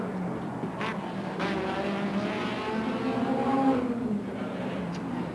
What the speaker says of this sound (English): BMW M3s, that's Ravalia and Pirro, running down on their practice lap here